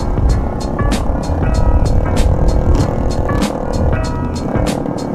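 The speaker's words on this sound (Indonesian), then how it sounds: "pada digeber-geber ya, Cok." Motorcycles on a Sunday group ride to Cisinga in Bandung rev loudly and continuously, their engines roaring up and down close by with sharp throttle bursts.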